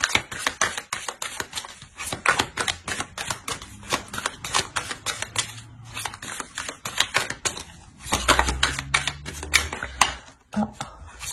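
Tarot cards being shuffled and laid out, with repeated crisp snaps and flicks in quick bursts throughout. Faint talk is present under the card handling.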